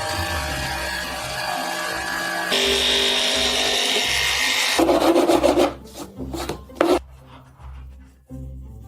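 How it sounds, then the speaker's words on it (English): A hand file rasps back and forth along the edge of a wooden formwork cutout, close and steady rubbing strokes that break into shorter, uneven scrapes toward the end. "I've now meticulously fine-tuned the details a little bit more with the file"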